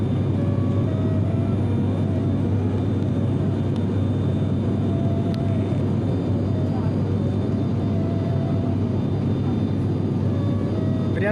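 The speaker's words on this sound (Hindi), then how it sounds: "हमारा विमान रनवे से उड़ान भर चुका है और हम लोग हवाई यात्रा का आनंद ले रहे हैं।" Steady, loud roar of an airliner's engines in the cabin just after takeoff from the runway, a dense broadband rumble with a low drone that holds unchanged throughout.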